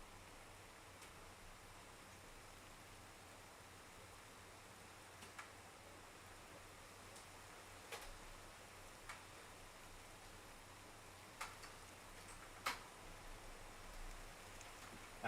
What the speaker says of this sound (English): It's fucking raining, bro.